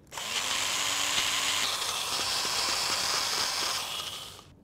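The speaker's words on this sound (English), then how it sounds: "Let's put the lid on and grind this to a slightly coarse paste." A food processor or grinder blends herbs and olive oil into a coarse chimichurri paste, a loud, steady whirring motor run lasting several seconds that starts abruptly and cuts off at the end, with no talking.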